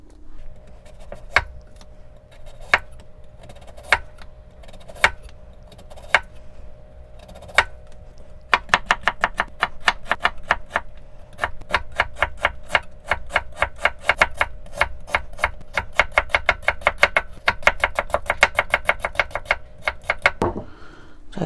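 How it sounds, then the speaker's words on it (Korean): A knife chops radish into thin julienne strips on a cutting board, with sparse single taps at first and then a fast, steady run of crisp, close knocks. "얇게 채를 한번 썰어 보도록 할게요"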